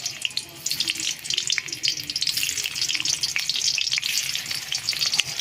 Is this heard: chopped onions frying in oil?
yes